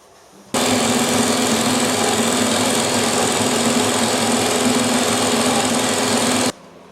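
Milling machine cutting metal on a workshop part: a loud, steady whirring and buzzing grind that starts abruptly, holds constant for about six seconds close up, then cuts off, with no talk.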